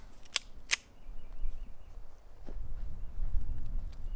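Two sharp pistol reports from Norma .380 ammunition fired into the dirt, close and crisp in quick succession early on, followed by low outdoor rumble and a faint later pop.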